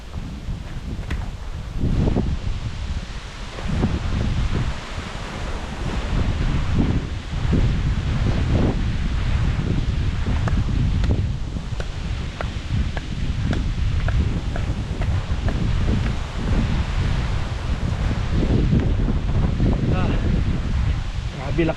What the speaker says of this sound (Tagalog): Grabe lakas ng hangin.